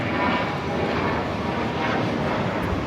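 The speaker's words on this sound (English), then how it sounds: "This is American Airlines 677 taking off to San Francisco on the A319." An American Airlines Airbus A319 taking off at LAX, a loud, sustained engine roar with broadband rumble and whine, heard steadily throughout at a moderate distance.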